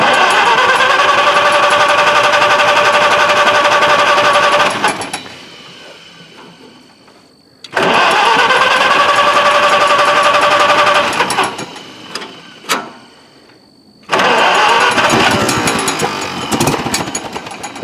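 An old, overgrown Farmall tractor engine on choke cranks and fires in three loud bursts of rough, hammering running, each dying into quieter sputtering and near silence, with a few sharp knocks in between.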